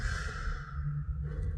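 A deep exhale during a core activation exercise, a long, soft breathy rush of air that is near and steady and fades toward the end.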